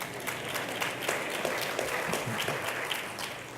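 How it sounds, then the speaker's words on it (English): A business-forum audience in Seattle applauds startups during a mayor's downtown economic address, a soft, continuous wash of many hands clapping from across a large hall. "yes, you can clap for them"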